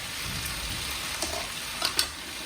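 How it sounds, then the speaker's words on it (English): Garlic cloves sizzle in a pan for shrimp and grits: a steady, hissing fry close up, with a few faint clicks and pops near the end. "So I'm going to let this cook for just a little bit until I can smell the garlic."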